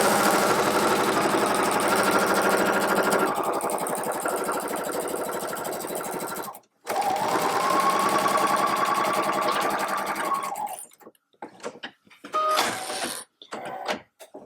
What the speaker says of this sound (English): you are going to sew completely across all of those seams